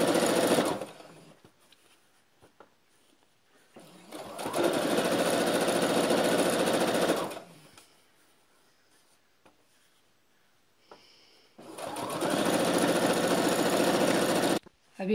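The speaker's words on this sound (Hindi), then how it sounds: "अब सिलाई देंगे, तीनों को एक साथ सिलाई आनी चाहिए।" A sewing machine stitches through three stacked layers of salwar fabric, a waistband strip and buckram, running in three loud, close, steady bursts of a few seconds each with quiet pauses between them.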